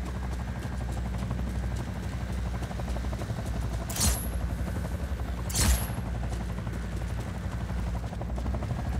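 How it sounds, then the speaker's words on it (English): Helicopter in the Just Cause 4 video game, a steady close rotor drone with continuous chopping throughout, joined by two brief sharp bursts. "Helicopter inbound."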